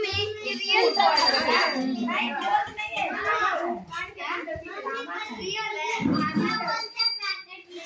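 A small toy bell bought for a little child, ringing with thin high chimes that come and go under almost continuous talk from adults and a child at home.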